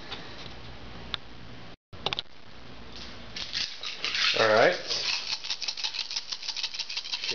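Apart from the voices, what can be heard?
shaking dice for the board game War of the Ring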